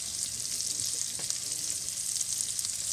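Onions frying in butter with sausage make a steady, close sizzle with a few faint stirring scrapes; no one speaks.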